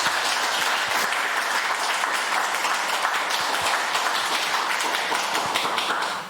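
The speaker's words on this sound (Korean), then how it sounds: "하나님께 박수로 영광 올려드리겠습니다" A Korean church congregation at a New Year's Eve worship service breaks into loud, sustained applause, with dense rapid clapping filling the room for several seconds before tapering off at the end.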